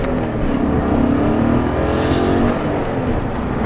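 A BMW M5 engine accelerating hard during a test drive, producing a strong, steady drone that climbs in pitch and then briefly eases and resettles as the gearbox makes an upshift, heard continuously with no talking.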